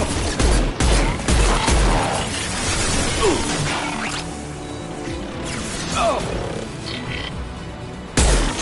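A grenade goes off in Mass Effect 2 amid combat, with heavy booming blasts and shattering crashes at the start, a rumbling busy middle, and another sharp burst near the end.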